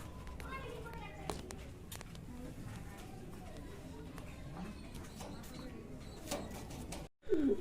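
Fancy pigeons, including satinette and magpie types, coo softly in a backyard loft alongside chickens and rabbits. The low, repeated coos sit under steady voices and background noise, followed by a brief clatter near the end.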